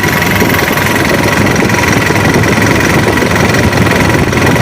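A Mitsubishi Canter Euro 4 truck engine idles with a steady, loud diesel rumble and clatter, the fan clutch audibly shifting its roar up and down over a few seconds.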